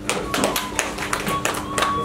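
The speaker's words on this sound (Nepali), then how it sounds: "तपाईहरु सबैले ताली बजाएर अभिनन्दन गर्नुहोस्" An audience applauds a speaker at a gathering of Nepali online TV journalists honouring newly elected journalists' federation office bearers: dense, steady clapping from a close crowd throughout, with some voices underneath.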